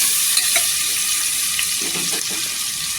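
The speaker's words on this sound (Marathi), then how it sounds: "मसाला छान असं परतून घ्यायचं तेलावर।" Turmeric, coriander powder and homemade masala sautéing in oil in a pan, a dense continuous sizzle and crackle close up, with faint stirring scrapes and no talking.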